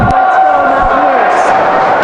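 A college hockey arena crowd at a West Virginia versus Navy game chants loudly and rhythmically, a dense wall of voices filling the rink close and continuous.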